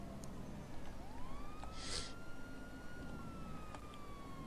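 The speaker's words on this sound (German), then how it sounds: "Ach, das ist der Krankenwagen, der die Sirenen anhat." Ambulance siren in the video game GTA V with the LSPD:FR police mod, a rising wail that stays steady under a dense traffic hum, moderately loud and fairly close.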